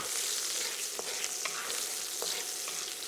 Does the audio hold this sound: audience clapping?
no